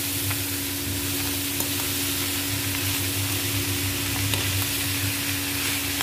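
Fenugreek and potato fry in a pan with a steady, close sizzle, faint stirring scrapes ticking through the hiss, and no voices.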